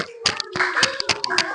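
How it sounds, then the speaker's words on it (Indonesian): Classroom applause from a group of students, a short burst of hand clapping with several sharp claps standing out, and faint children's voices underneath. "Tepuk tangan ayo."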